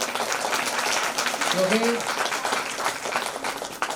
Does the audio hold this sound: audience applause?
yes